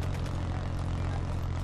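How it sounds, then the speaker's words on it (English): A Wraith aircraft scorestreak in Black Ops 3 swoops in with a steady, loud propeller-like engine roar and a broad airy rush that holds constant throughout. "Wraith inbound. Oh, Wraith coming in."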